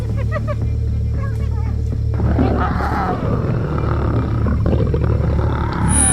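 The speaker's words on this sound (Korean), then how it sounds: "암사자는 몸을 돌려 짧은 한 방의 포효를 내질렀다." A lioness gives a deep, rough roar with grunting texture facing a pack of hyenas in the wild, loud and sustained over a steady low rumble, with voices partly over it.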